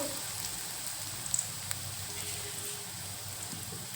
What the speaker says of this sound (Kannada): ಹಾಕೊಂಡು ಸ್ವಲ್ಪ ಹೀಗೆ ಫ್ರೈ ಮಾಡ್ಕೋಬೇಕು